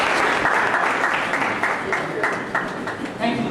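Applause rolls through a workshop audience, a loud, close, dense patter of many hands that holds steady from start to finish, with voices murmuring under it.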